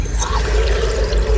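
Water drains from a household pressure tank being emptied so it can recharge with air, a steady rushing, trickling flow close to the mic with no speech over it.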